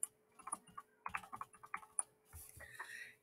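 Typing on a computer keyboard, with irregular bursts of close, crisp key clicks and a few louder strikes, ending in a brief rustle.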